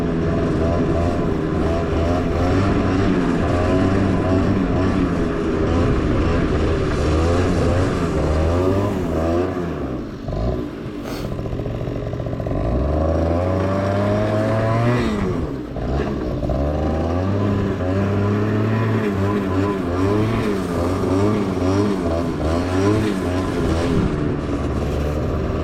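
A TGB snowmobile engine drones loudly and close while drifting, its pitch climbing and falling in repeated revving sweeps with a brief dip midway, continuous throughout with no talk.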